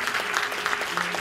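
Audience applause at an award ceremony, the myfone mobile creation awards, as a first-prize winner in the SMS life-notes category is honored; steady dense clapping fills the room for just over a second.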